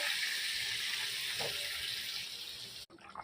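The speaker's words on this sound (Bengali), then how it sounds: "আমি পরিমাণ মতো জল দেবো।" Water pours steadily from a tap into a pan while rohu fish curry is cooked, a continuous close splashing flow that cuts off near the end, leaving a few faint clinks.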